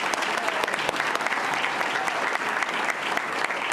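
A room of people at a school board meeting applauds a student, a close, lively patter of many hands with some individual claps standing out, continuous throughout.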